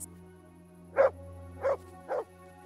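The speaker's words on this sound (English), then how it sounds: "Why is he barking?" Three evenly spaced barks from a dog in the video game Kingdom Come: Deliverance, moderately loud over a low, steady game background hum.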